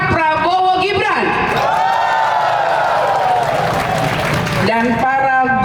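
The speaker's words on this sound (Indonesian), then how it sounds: "Jadi tepuk tangan yang keras" Applause and crowd cheering at a volunteers' declaration event for Jangkar Prabowo Gibran in West Papua, loud and sustained, with a voice over a loudspeaker at the start and end.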